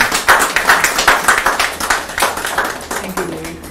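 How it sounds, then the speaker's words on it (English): A small live morning-show audience claps for Nimal and Sugita, a close, uneven burst of distinct hand claps that tapers off, with a voice starting near the end. "I want all of you to give Nimal and Sugita a big round of applause"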